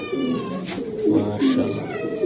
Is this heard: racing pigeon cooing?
yes